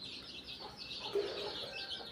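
A native country hen tending a brood of 22 chicks clucks softly and steadily, with faint chirps mixed in. The sound is low and close, with no talk.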